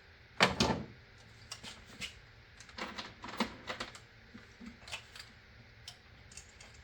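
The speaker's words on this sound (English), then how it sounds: "Seat it with ratchet, quarter turn." A ratchet seats a part during an oil change on a Mercedes-Benz S550 W222, giving a series of sharp, close clicks in uneven clusters separated by short pauses.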